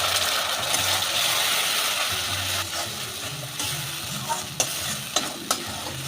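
Mustard and peanut paste added to fried onions and cumin in a pan, sizzling steadily while a spatula stirs and scrapes, with a few sharp knocks against the pan toward the end.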